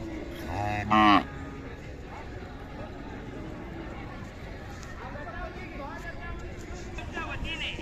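Khillar cattle moo near the start at a fair in Pandharpur, a loud low call, followed by quieter lowing and background chatter from people in an open, noisy setting.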